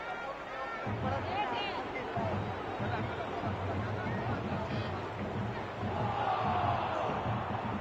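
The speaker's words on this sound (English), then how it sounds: "The crowd is electric right now." A cricket stadium crowd in a cricket video game keeps up a steady, loud roar of massed voices and babble that swells slightly toward the end.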